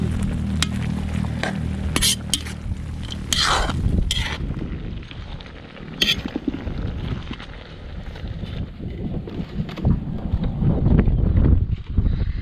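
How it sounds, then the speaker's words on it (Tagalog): A pot of boiling paksiw with anchovies being stirred, bubbling and scraping in a steady, loud wash with breezy outdoor noise throughout. "Kulo na. Haluin na natin."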